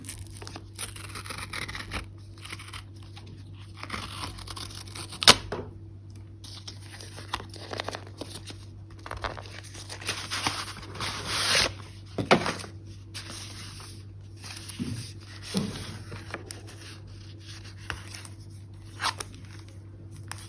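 Unboxing a Kindle Paperwhite e-reader in Twilight Blue: quiet crinkling of packaging, tearing of a seal and occasional small taps and scrapes against a steady low background hum.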